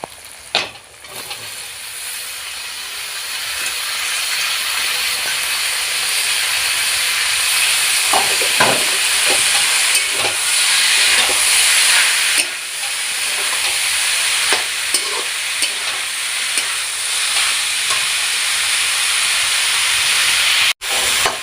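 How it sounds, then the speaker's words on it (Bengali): Banana flower tipped into hot spice paste in oil, setting off a loud, steady sizzle and hissing steam that runs nearly the whole time, with a few soft clinks of stirring. "এবার আমি মোচাটাকে ঢেলে দেবো"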